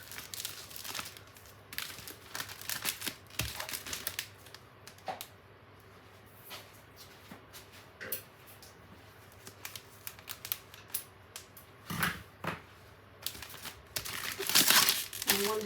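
Electrical tape being pulled and wrapped around a resin mould, heard as intermittent crinkling and sticky tearing bursts, close and fairly quiet, with louder rips near the end.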